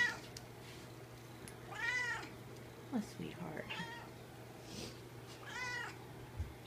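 A young ragdoll kitten, about six or seven months old, gives several soft, high meows over a low steady hum, with someone speaking gently in between.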